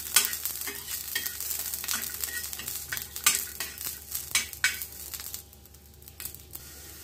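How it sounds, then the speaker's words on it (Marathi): Ginger and garlic fry in a pan for a curry of drumsticks with onion, giving a steady close sizzle with repeated scraping stir strokes that fade to a quieter hiss near the end. "आलं लसूण पण आपण व्यवस्थित भाजून घेऊया"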